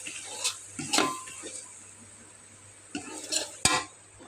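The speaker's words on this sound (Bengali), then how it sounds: "একসঙ্গে একটু ভাজে নেব। মশলা দিলাম" Spices for tamarind pickle stirred in a pan with a spoon, giving several quiet scraping and clinking strokes in bursts, with a faint sizzle between them.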